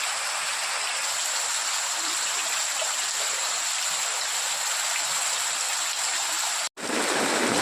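Extremely heavy rain pouring down over a flooding village, a loud, dense, unbroken hiss that stays steady throughout, with a brief dropout near the end.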